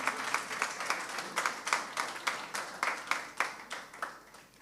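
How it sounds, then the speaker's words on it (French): An audience at a prostate cancer event applauds steadily, with dense clapping swelling in rhythmic waves and no talking over it. "Je pense qu'on peut les applaudir, mais très fort."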